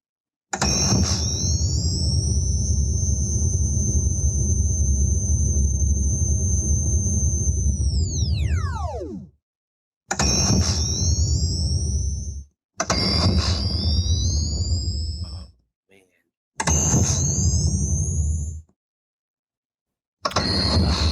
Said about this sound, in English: That is the proton pack power-up sound.